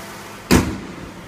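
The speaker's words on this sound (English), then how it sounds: "I'm going to go ahead and close the hood." A single heavy thump of a 2013 Nissan Maxima SV hood shutting, close by, with a brief low rumble trailing off into quiet.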